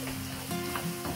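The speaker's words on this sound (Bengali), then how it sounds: "দেখতে থাকেন, রসুনগুলো একটু ব্রাউন কালার হোক" Garlic cloves frying in oil for a dry plum pickle, a steady close sizzle with soft stirring, carrying on without pause and no voices.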